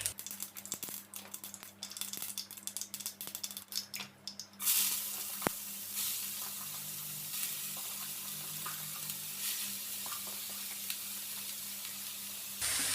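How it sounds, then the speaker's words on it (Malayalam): Mustard seeds spluttering in hot coconut oil in a home kitchen pan, scattered sharp pops at first, then a sudden steady loud sizzle that continues to the end, with no speech. "കടുകൊക്കെ പൊട്ടി തുടങ്ങി"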